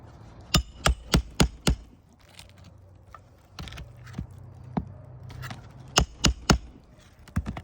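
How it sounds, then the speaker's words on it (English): Roof shingles are pried up with a shingle removal tool and hammer, giving sharp, loud cracks and knocks in quick bursts of four or five, separated by quieter scraping. "you should be lifting the shingle up far enough to where you can get a hammer underneath it"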